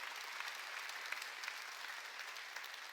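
A church congregation at a Sunday worship service claps together in a steady, dense wash of applause. It is fairly faint and distant and fills the whole moment without pause.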